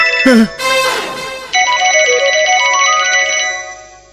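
A loud electronic phone ringtone plays a bright repeating melody, preceded by a brief exclamation.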